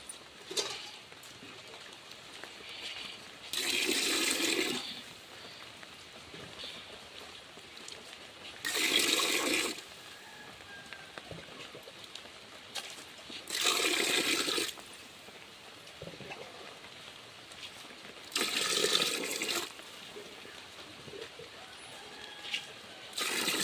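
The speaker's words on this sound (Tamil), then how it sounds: "ஒரு டம்ளர் அரிசிக்கு ரெண்டு டம்ளர் தண்ணி கணக்குக்கு தான் நம்ம வந்து ஊற்றுறோம்" Water poured in four separate bursts over rice in a large pot while cooking biryani for a communal meal, each pour steady and splashy, with quiet pauses between.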